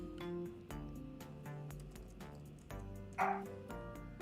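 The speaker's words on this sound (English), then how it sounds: "sorry if you hear a dog barking." A dog barks several times in sharp bow-wow bursts with some yips and whimpering, heard faintly in the background behind other sounds.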